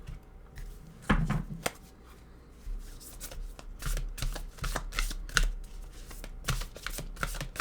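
Oracle cards shuffled by hand during an astrology reading, a quiet run of crisp riffling and tapping bursts repeated irregularly at close range with no talking.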